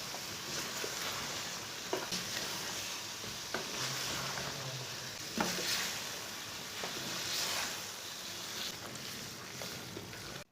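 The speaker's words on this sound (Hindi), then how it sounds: "1 किलो आलू डाल लेंगे। आलू डाल के इसे 5 मिनट के लिए भून लेना।" Potatoes and green peas fry in a pan for an aloo matar curry, giving a steady, moderate sizzle and hiss with occasional soft stirring clicks and scrapes, with no talking.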